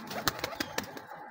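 Pigeons at a pigeon farm make soft, quiet coos close by, with several short sharp pulses and light fluttering in an afternoon setting, and no talk.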